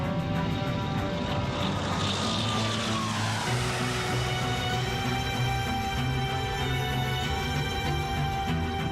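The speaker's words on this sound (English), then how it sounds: "Both planes take off into a stormy sky." Loud roaring propeller aircraft engines rising in pitch and power as two planes take off into a stormy sky, a continuous drone throughout.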